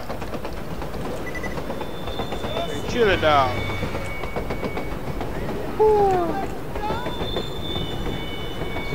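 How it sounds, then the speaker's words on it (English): Train in the video game Borderlands 2 rolls past with loud clattering and squealing wheel screeches, while a character speaks briefly over the rumble. "Watch out for the train."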